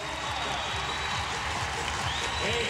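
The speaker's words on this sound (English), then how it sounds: "These fans just waiting for something to stand and cheer about. They've got it right now." A basketball arena crowd at a 2009 WNBA playoff game between the LA Sparks and Seattle Storm cheers and applauds steadily, a dense roar of clapping and voices that builds toward the end.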